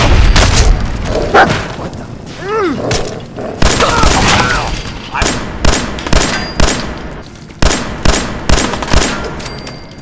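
Gunfire erupts in a Fallout 4 fight against raiders: loud bursts and repeated sharp shots with booming impacts, fading into a steady sequence of evenly spaced single blasts, while speech is faintly present.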